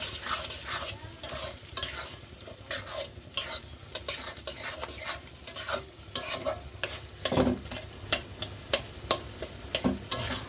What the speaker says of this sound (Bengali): তারপর দিয়ে দিব ধনিয়া গুঁড়ো, মরিচের গুঁড়ো, হলুদ গুঁড়ো সব একসাথে নিয়ে আবার নাড়াচাড়া করে ভালো করে কষিয়ে নিব